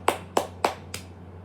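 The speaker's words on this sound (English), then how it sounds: "So let's clap on that." Four sharp, evenly spaced hand claps ring out close and clear over a low steady hum, then stop.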